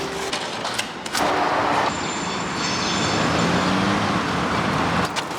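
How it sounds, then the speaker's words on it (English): A Berlin city street carries a dense, continuous roar of passing traffic, with vehicles swelling and fading and occasional sharp transient knocks in the mix. "it's super noisy. Then there's too much traffic"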